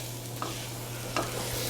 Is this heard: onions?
yes